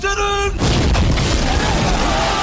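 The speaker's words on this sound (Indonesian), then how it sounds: "kapal tersebut ditembak meriam dan tenggelam" Cannon fire aimed at a ship: a tonal note cuts off into a single massive, close boom whose dense rumble and debris wash on for about two seconds.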